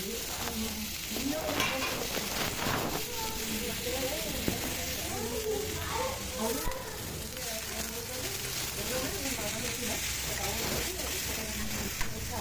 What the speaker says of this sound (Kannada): ಈ ಕಡೆ ಮುಲ್ಲಂಗಿನ ಕಟ್ ಮಾಡಿಕೊಂಡು ಉರಿತಾ ಇದ್ದೀನಿ ನೋಡಿ, ಸಣ್ಣ ಕಟ್ ಮಾಡಿಕೊಂಡು